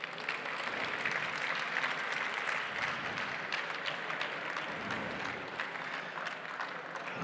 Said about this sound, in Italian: Un grande applauso per favore